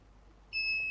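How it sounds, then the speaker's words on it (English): Home power alarm warning of a load-shedding outage sounds a sudden, clear high-pitched electronic tone that starts midway and holds steadily, close and alone over quiet room hiss. "I've got an alarm that comes on to warn me that we're in load shedding"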